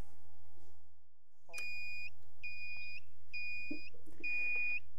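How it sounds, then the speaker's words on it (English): Several high electronic beeps in a regular sequence, each a sustained tone with short gaps, the last one longer, over a low steady hum. "Beeping."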